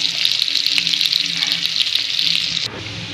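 Onion and cumin seeds fry together in hot oil in a pan, a loud, steady crackling sizzle that continues alone and drops in intensity near the end.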